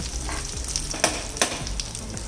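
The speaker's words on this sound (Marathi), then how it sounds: "अशी थोड्या थोड्या वेळाने परतून घेऊन सगळ्या बाजूनी चांगली शिजवून घ्यायची।" Brinjal slices frying in a pan, Indian-style baingan fry, giving a steady close sizzle with a few brief sharp crackles and scrapes as the pieces are turned; no talking.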